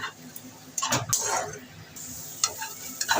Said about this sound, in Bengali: সামান্য একটুখানি জল দিয়ে দিচ্ছি মশলাটা যাতে পুড়ে না যায়